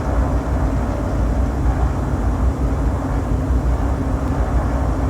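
Diamond DA42 twin-engine aircraft in Microsoft Flight Simulator, a steady loud low engine drone and rumble holding evenly without breaks.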